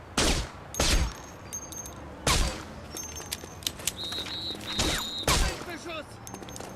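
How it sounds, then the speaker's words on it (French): Gunshots in The Saboteur boom out as several loud, separate blasts roughly a second apart, with short whistling tones and clatter between them and a voice speaking. "Ça, c'est un tir mortel."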